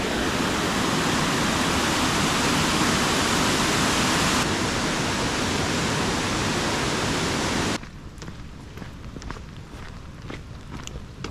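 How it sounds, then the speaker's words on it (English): A waterfall in Glen Tilt roars close by in a loud, steady rush, then the noise suddenly drops to quieter outdoor ambience with faint footsteps. "It is a day of waterfalls"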